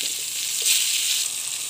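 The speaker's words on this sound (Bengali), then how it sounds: "আলু আর বেগুনগুলা দিয়ে দেবো হালকা করে ভেজে নেওয়ার জন্য।" Potatoes and eggplant are lightly fried in hot oil, making a loud, even hiss of sizzling that holds steady for under two seconds, close by and without speech.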